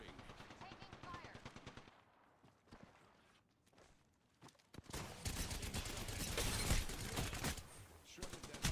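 Rapid automatic gunfire in a battle royale video game, bursts of quick shots rising to a loud sustained volley with footsteps and faint talk mixed in.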